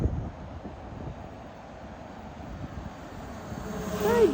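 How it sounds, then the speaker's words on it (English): A steady engine hum with faint wind rushing past grows louder toward the end as the drone approaches over sand dunes by the sea in remote South Australia. "Here comes the drone"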